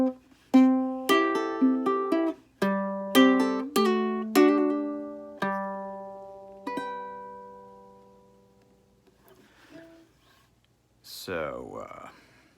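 Acoustic guitar picks out the ending of a song, its notes struck one after another and softer, ringing out cleanly and decaying into near silence, with a brief rustle at the end.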